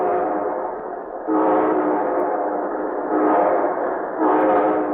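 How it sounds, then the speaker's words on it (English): A train horn blasts in repeated long chords, swelling and fading in a rhythmic pattern, loud and up front. "And here comes our star-studded show train."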